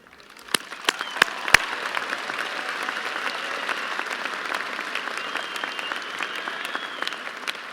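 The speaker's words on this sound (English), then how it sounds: "big round of applause, guys" Applause at a 2017 Riverside High School graduation ceremony: a few sharp, close claps and then a sustained, even round of clapping from a large crowd in a hall.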